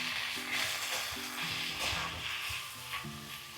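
Onions frying in oil, a faint, soft sizzle with gentle stirring under a low background hum.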